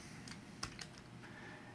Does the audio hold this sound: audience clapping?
no